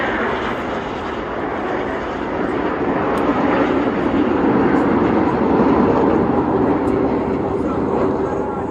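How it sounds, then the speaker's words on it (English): Red Arrows jets roar overhead at the Blackpool air show, a loud, steady engine rumble that swells slightly and holds throughout without a break. "waited for the planes to start coming across, and very soon they did, and the red arrows"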